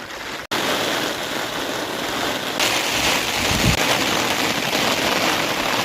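Heavy monsoon rain pours down in Gir, a dense, steady hiss of drops on surfaces that continues unbroken and grows slightly stronger partway through, with no voices.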